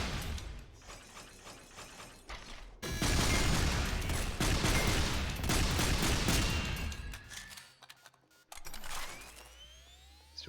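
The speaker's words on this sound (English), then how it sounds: "We're taking a lot of incoming fire." Dense, loud gunfire from the top-down shooter SYNTHETIK 2, sustained volleys with mechanical clatter that drop out briefly near the end before firing resumes.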